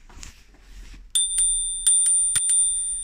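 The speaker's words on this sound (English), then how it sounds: "It has a bell." A bell on a Cherokee kids' scooter rings sharply five times in a quick, uneven sequence, close and loud, following a stretch of quiet handling noise.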